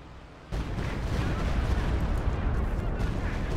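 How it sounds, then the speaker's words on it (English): Stuka dive bomber attacking in Company of Heroes 2: a sudden, sustained barrage of rumbling gunfire and explosions kicks in and roars steadily, loud and dense, with no voice on top. "Here's the Stuka. The Stuka's firing."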